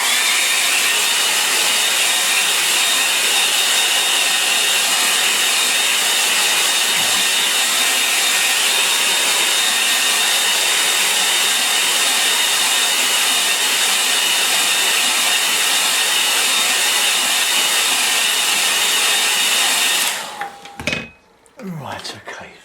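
A hair dryer blows on wet paint on a moorland lane painting, a loud steady whoosh held for about twenty seconds before it clicks off, followed by brief handling noises.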